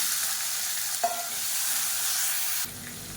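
Peeled shallots and garlic cloves frying in hot oil, a steady broadband sizzle with a brief clink near the start and a drop in intensity toward the end, close and alone.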